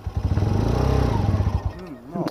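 A Chinese-made motorcycle's engine in Yemen chugs in close, rapid pulses, then sputters and dies out, with a voice speaking right after.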